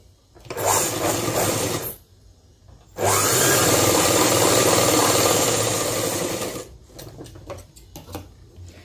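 A sewing machine stitches a folded hem on a school uniform skirt, running in two steady bursts, a short one and then a longer sustained run, with a few light mechanical clicks afterward and no talking.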